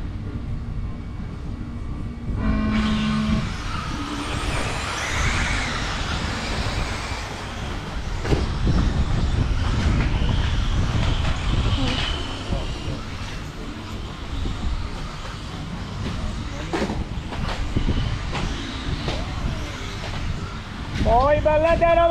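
Electric 1/8-scale 40-plus e-buggies race through a qualifier, a continuous whining drone of motors with rising and falling pitch sweeps as cars pass near and far, under crowd noise and occasional announcer talk.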